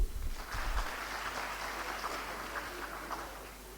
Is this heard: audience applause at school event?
yes